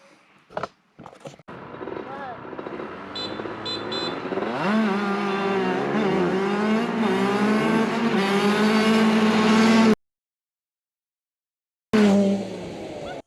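CR80 go-kart engine that only runs well with the choke fully on, sputtering to life after a few pulls, then droning steadily with rising revs before cutting out abruptly and restarting briefly.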